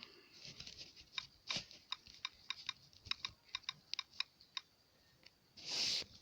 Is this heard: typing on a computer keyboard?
yes